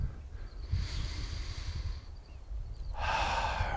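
Slow, deep qigong breathing with two long, airy breaths, an inhale then an exhale, that swell and fade close by, with no speech.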